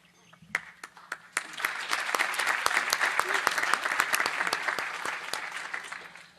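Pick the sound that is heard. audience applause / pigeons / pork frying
audience applause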